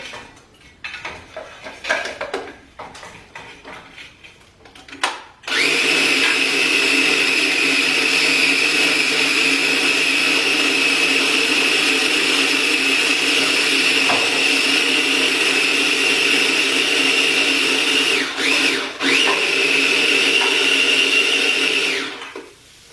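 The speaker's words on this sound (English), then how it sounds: "You hear that searing? It's my favorite noise." Food sears in hot oil in a home kitchen while chimichurri is being made, a loud steady sizzle that starts abruptly and holds without a break, with faint rattles and clatter from the stovetop at the start.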